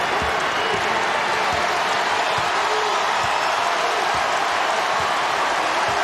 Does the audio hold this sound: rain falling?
no